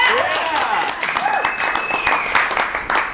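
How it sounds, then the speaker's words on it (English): An audience at an improv comedy show claps and cheers together after a long set, a dense, sustained wash of many hands with a whistle rising through it, fairly close and steady for the whole stretch. "want to clap for him?"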